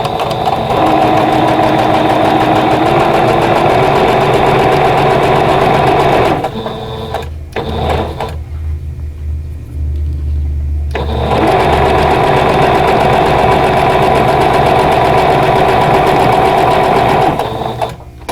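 A sewing machine runs steadily stitching a vintage-style quilt block with 50 weight thread at a short 2.0 stitch length, loud and close, with a brief pause in the middle before the whirring stitching resumes to the end.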